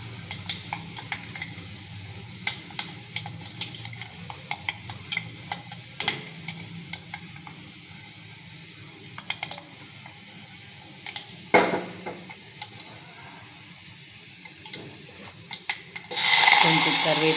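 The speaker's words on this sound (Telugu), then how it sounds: "మెంతులండి సిమ్లో అలా బాగా వేపాలి." Fenugreek seeds frying in a pan on a low flame, with a soft continuous sizzle and scattered clinks and scrapes of a spoon stirring against the pan, and a brief louder hiss near the end.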